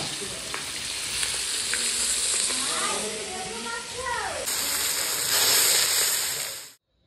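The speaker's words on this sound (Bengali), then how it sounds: "পিসে মাছ ভাজছো?" Pieces of fish fry in a pan with a loud, steady sizzle and hiss that stays close and continuous for about seven seconds before cutting off abruptly.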